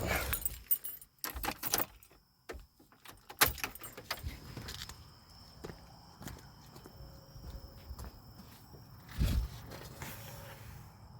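A bunch of keys jangles and clinks in sharp bursts during the first few seconds while someone checks a 2007 Grand Prix for fuel leaks, then settles into quieter handling noise and faint background hum.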